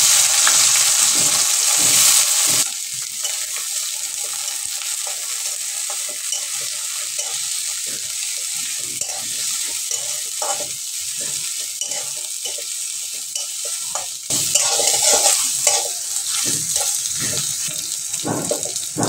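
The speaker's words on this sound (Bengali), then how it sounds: "আমি এবার এগুলো কড়াইতে দিয়ে ভেজে নেব" Onion, garlic, green chillies and red chillies sizzle and crackle in mustard oil in a wok, with scraping stirs that come and go. A brief burst of running water is heard at the start and again near the end.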